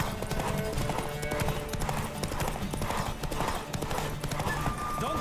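A horse gallops in The Witcher 3: Wild Hunt on PS5, its hooves striking in a fast, steady, rhythmic beat that stays close and loud throughout, with faint game sounds and voices underneath.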